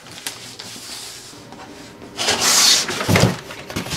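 Packaging for an Exceed RC Maxstone 5 truck is handled and pulled open, giving close rubbing, scraping and knocking noises with a brief louder rustle partway through.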